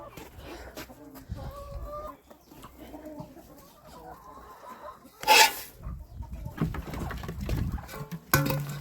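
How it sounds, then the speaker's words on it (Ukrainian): Roosters in a farmyard make low, soft clucking sounds, with a sudden loud squawk midway and rustling, scratching noise around them. "Ось якісь придурковаті оці півні."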